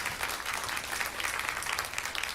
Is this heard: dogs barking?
no